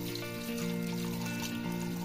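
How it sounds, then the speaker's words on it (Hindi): Water pours steadily into a pot holding beef trotters for an oil-free paya, a short continuous splashing trickle with a tonal background hum. "इसमें मैं ऐड करूँगी तकरीबन 2 लीटर पानी"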